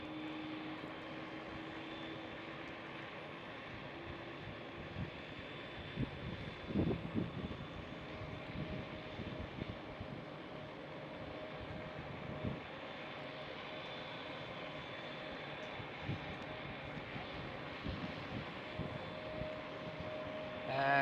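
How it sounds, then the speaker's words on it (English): Airliner taking off at Schiphol Airport in Amsterdam, a distant, steady engine roar that holds throughout with a faint whine, heard from afar and alone. "And cleared for takeoff."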